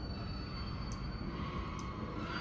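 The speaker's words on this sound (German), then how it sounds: "Und ein Zug fährt ein." A train pulling into a station in the video game The Spectrum Retreat, a steady low rumble and rolling rail noise with a thin high whine, continuous and moderately loud.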